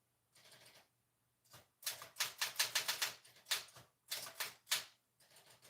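Close, crisp key clicks as someone types, arriving in irregular bursts separated by short pauses, with no voices.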